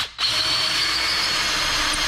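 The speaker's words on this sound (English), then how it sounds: "And then as you're drilling" A power drill bores into limestone after a brief pause at the start, whining in a steady, continuous grind that is close and fairly loud throughout.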